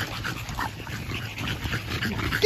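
A dog whimpers and yips softly while getting out of water, faint and intermittent over outdoor background noise.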